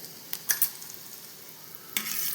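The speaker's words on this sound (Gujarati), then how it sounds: "હવે આપણે એને હલાવી દીધી." Turmeric is stirred into hot oil with a spoon, giving a few sharp metallic clinks and scrapes against the pan over a faint, quiet sizzle, with no one speaking.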